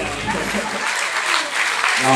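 A carnival society session erupts in a burst of clapping from the audience, loud and dense, fading slightly as voices creep back in at the end.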